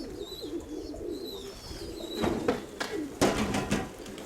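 Pigeons coo in a loft holding many young squabs, soft repeated calls close by with small chirps and a few louder bursts of shuffling or wing noise toward the end.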